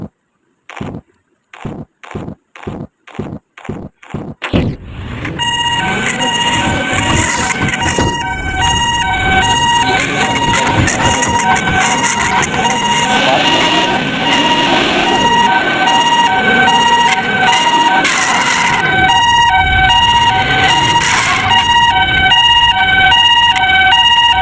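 A toy ambulance plays a run of evenly spaced clicks, then a loud, repeating electronic two-tone siren that continues steadily and up close for the rest of the clip.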